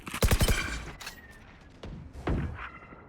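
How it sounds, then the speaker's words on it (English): Gunfire from a Valorant esports match, with a tight rapid burst of shots up front, then scattered single shots and thuds, fairly faint and alone without talk. "That's a lot of gunshots heard."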